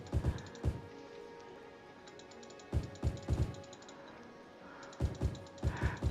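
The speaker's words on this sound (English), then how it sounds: "We're just right-clicking all over the place here." A computer mouse right-clicking while Cities: Skylines is played: faint, crisp clicks in small irregular clusters with quiet gaps between them, over a low background hum.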